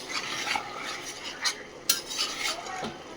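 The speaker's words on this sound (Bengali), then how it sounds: "দেখুন অনেকক্ষণ ধরে ধরে কিন্তু এটা আমি কষাচ্ছি" Cauliflower chicken sautéed in an uncovered pan, a spatula scraping and clinking against the metal in several distinct strokes over a faint sizzle.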